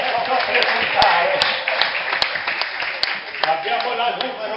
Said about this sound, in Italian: raccogliamolo un bel applauso per presentare